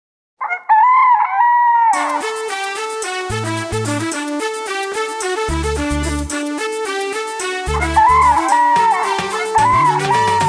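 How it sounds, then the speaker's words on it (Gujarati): A rooster crows at the start and again near the end, set against a bright, bouncy musical accompaniment of a Gujarati children's song that plays throughout. "કુકડે કુક ભાઈ કુકડે કુક, બોલે કુકડો જાગી જા."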